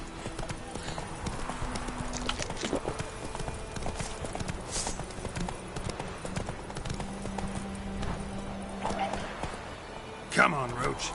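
Roach the horse gallops in The Witcher 3: Wild Hunt on PS4, with steady clip-clop hoofbeats running throughout under a man's speech and a brief louder burst near the end.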